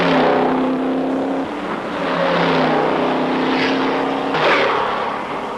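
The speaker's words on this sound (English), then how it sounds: "The first 30 cars are bunched and battling for early positions." A pack of race cars charges up a mountain course, engines roaring loud and steady with rising and falling revs as they battle for early positions.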